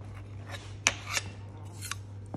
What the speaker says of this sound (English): what I'm just going to do now is just cut the edges off around here